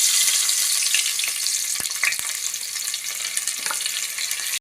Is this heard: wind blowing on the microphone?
no